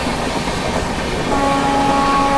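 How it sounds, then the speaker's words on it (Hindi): Shatabdi Express (Kanpur Shatabdi) racing past and overtaking the Sealdah Rajdhani on a parallel track, heard as a loud, steady rolling rumble that builds slightly, with a faint tonal whine joining in the second half. "लग रहा है सियालदह राजधानी को एक बार फिर से ओवरटेक मार देगी वो अपनी शताब्दी एक्सप्रेस।"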